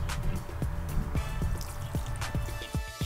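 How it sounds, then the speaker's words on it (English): Kool-Aid poured into a big glass, a steady liquid gurgle with a run of repeated glugging drips spread across the pour, fairly close and heard alone. "it sends another message for her to pour me a big glass and bring it to me out on the deck"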